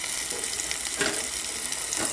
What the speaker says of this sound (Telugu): ఇప్పుడు సొరకాయ ముక్కలు వేసుకోవాలి